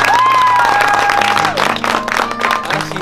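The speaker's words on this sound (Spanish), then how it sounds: "¡Un aplauso para mi abuelo!" A family claps loudly and steadily at a birthday party, honouring a grandfather. The dense applause carries on for about three seconds, with a sustained voice or whistle tone rising above it near the start.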